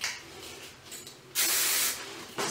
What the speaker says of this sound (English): Take your hairspray,